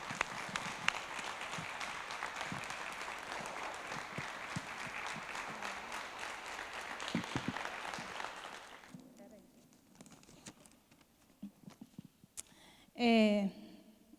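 Church congregation at a Thursday evening worship service applauding, a loud, sustained wash of many hands clapping that fades out, followed by quieter scattered sounds and a brief voice.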